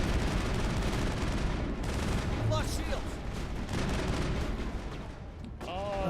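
Automated turrets fire in the video game Mass Effect, a dense, sustained rattle of gunfire with booming impacts that fills the mix and continues almost without a break.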